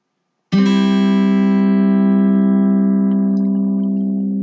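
A single guitar strum with all strings ringing together, sustaining clearly and slowly fading afterward, no voices.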